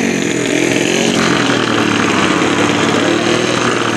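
A drag racing motorcycle engine held at a loud, steady buzzing rev during tuning, droning without a break and filling the space close by.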